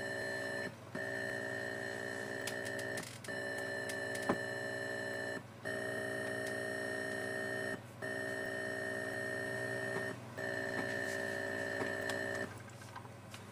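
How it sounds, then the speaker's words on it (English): Atari 8-bit computer loading a game from cassette: continuous steady data tones with a constant buzzing carrier, broken every couple of seconds by short gaps and brief clicks, loud and close with no talking. "12 minutes of beeping, it finally loaded."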